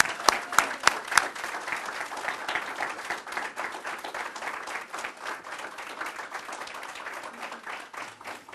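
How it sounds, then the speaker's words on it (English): Sustained audience applause at an awards ceremony, steady dense clapping from a crowd lasting the full stretch, with a few sharp nearby claps standing out at the start and no talking over it. "Let's give them all a round of applause."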